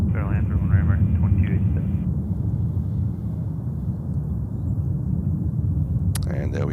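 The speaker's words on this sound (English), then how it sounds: "1250 at 7, runway 31 right, clear to land" Airliner landing on runway 31 right at JFK, a loud, continuous low rumble and roar heard close, with a radio voice over it early on.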